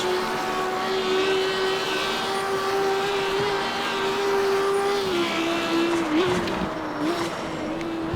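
A Lamborghini Huracán EVO engine in the racing game CarX Street drones steadily at high revs, with small pitch dips like gear shifts, loud and continuous with no voices.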